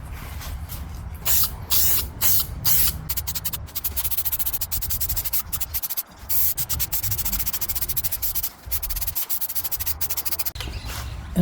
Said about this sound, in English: And we're ready to spray.